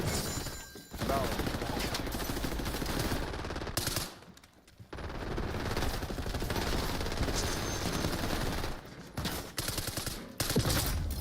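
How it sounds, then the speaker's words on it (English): Shotgun blasts and other rapid gunfire from a video game run almost nonstop under loud game noise, broken by brief dips. Voices talk over parts of the action. "that shotgun to the head"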